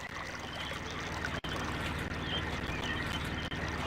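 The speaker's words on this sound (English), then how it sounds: "you can still hear water flowing through the pipes" Water flowing through pipes inside realMyst Masterpiece Edition, a steady rushing, trickling wash that holds at an even level throughout with no voices.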